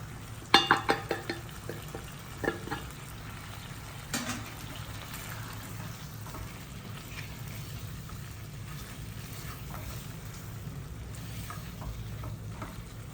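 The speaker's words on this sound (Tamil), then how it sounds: "ஸோ இப்படி நல்லா வதக்க வதக்க இதிலிருந்தே உள்ள தண்ணியிலையே நம்ம வந்து நல்லா வதக்கிடுங்க" Quail sautéing in a pan with ground pepper and cumin, a steady sizzle with a few sharp spoon scrapes early on, then continuous frying hiss, close and moderately loud, with no talking.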